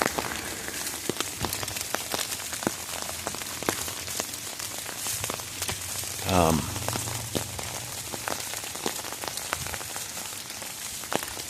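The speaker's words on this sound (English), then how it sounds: "So the tapping's going to be a little loud. You know, the water hitting the umbrella." Steady rain patters densely on an umbrella overhead, close and constant, with a brief low rumble partway through.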